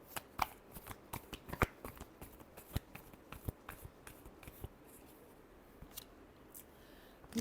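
A deck of tarot cards is shuffled close by in soft, scattered riffles and snaps that thin out toward the end. The sound is quiet overall, with no voices.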